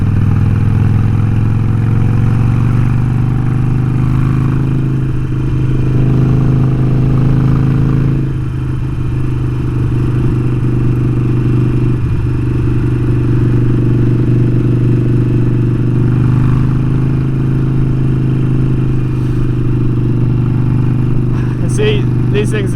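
A custom Harley-Davidson Sportster Forty-Eight motorcycle rumbles steadily with a deep, continuous engine drone while riding near a lake, a loud low throb that holds through the stretch.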